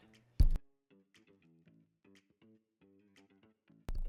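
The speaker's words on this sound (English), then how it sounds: "I have to sneeze, chat!" A single loud sneeze bursts out near the start, followed later by a second sharp burst at the end, with quiet music playing softly in the background.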